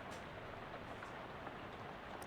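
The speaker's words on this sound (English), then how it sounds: "It sounds like it's raining." Steady, faint rainfall patters softly and evenly throughout.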